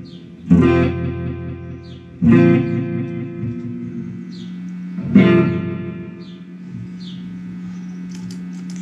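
A Mesa Boogie Tremoverb guitar amp rings out with three struck chords, each swelling and decaying with a wavering, pulsing effect and a steady hum beneath, loud and close.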